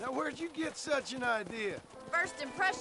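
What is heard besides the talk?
No distinct noise like a dog, phone or traffic.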